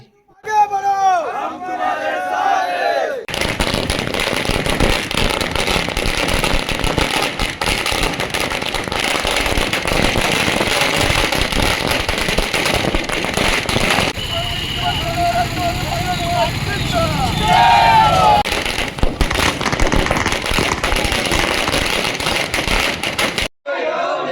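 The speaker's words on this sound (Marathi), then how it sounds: "फटाक्यांची आतिषबाजी करीत जल्लोष साजरा केला जात आहे" A loud, dense crackling din of bursting firecrackers at a Shiv Sena election victory celebration in Sakri runs almost continuously, mixed with crowd noise and shouting, close and overwhelming.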